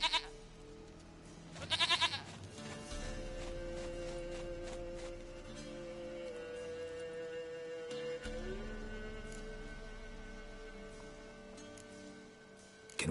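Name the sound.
goat bleating in video game The Witcher 3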